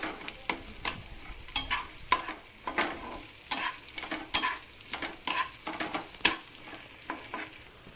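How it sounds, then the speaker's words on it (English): Onions with dals and a red chili cooking on a low flame, a steady soft frying hiss broken by repeated sharp scrapes and clacks of a spoon stirring the pan, with no talk. "I have left the onions in that low flame"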